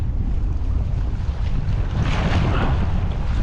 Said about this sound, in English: These waves are kind of crazy.